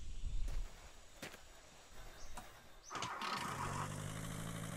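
A vehicle engine in the video game The Long Drive cranks briefly and catches, then settles into a steady, fairly loud idle that continues to the end.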